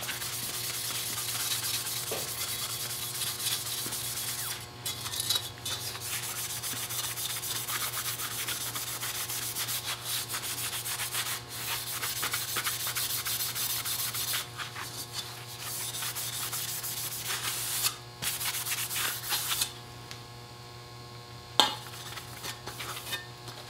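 Sandpaper scuffs across a planished sheet metal panel in a shop, a soft rasping rub that comes in repeated strokes with short pauses, fairly quiet over a steady low hum.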